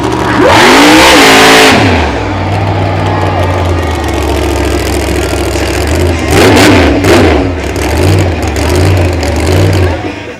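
Bounty Hunter monster truck at a 2009 Markham monster truck show, its engine roaring in a loud rising rev at the start, then a steady throaty idle with more rev bursts later, amid arena crowd noise and a public-address voice.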